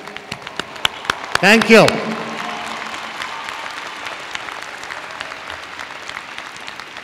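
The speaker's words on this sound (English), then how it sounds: "Give him a round of applause." Commencement audience applause with a brief cheer at the start, a dense steady clapping from a large crowd that carries on through the clip, with a short spoken thanks over it.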